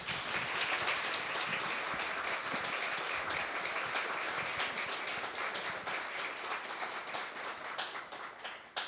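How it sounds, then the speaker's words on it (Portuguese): An audience applauds after a talk with author Socorro Acioli, steady dense clapping from many hands that holds for several seconds before trailing off slightly at the end. "A resposta vem também sobre a forma de aplausos"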